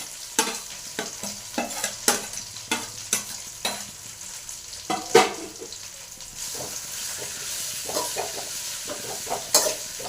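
Drumstick leaves sizzle in a hot oil tempering while a spoon stirs them in a quick, regular run of scrapes and clanks, followed by a steadier close frying hiss and a few later stirs.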